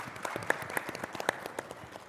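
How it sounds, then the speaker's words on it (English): Scattered applause from a small audience welcoming a speaker at a live-streamed event, a handful of distinct claps heard faintly and a bit distant. "A round of applause for her, please."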